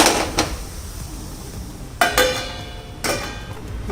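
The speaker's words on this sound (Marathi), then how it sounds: "2 मिनिटासाठी आपण याच्यावर झाकण ठेवूया." A metal lid clanks onto a pan of cooking vegetables. Three distinct, ringing metallic knocks come about a second apart, with a soft clatter at the start and nearby kitchen noise between them.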